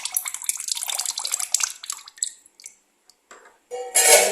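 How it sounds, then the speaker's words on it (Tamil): Homemade fabric conditioner poured into a tub of water and mixed, a steady close splashing and trickling that fades, then a short louder swish of water at the end. "அதை வந்து தண்ணியில் வந்து ஆட் பண்ணிடுங்க."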